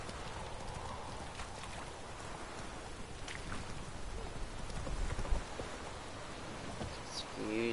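Geralt's horse Roach in The Witcher 3 moving through rain: faint clip-clopping hooves under a steady hiss of rainfall, quiet and close, with a voice talking briefly.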